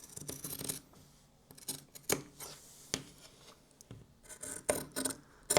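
Scissors cut through fabric for a pleated bag: soft, close snipping and rasping strokes come in irregular clusters at a low level, with brief pauses between cuts.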